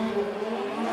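Drift cars at Formula Drift Japan at Sugo give a brief, steady roar of engines at high revs with a touch of tire noise, lasting about a second.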